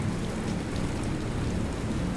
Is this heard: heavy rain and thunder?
yes